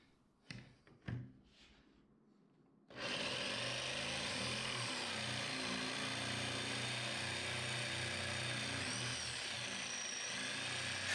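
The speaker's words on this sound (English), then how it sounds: "sets up the jigsaw to cut a nice straight line" A jigsaw starts abruptly after a few soft handling knocks and then cuts a straight line through wood, a loud, continuous buzzing saw drone held steady for several seconds.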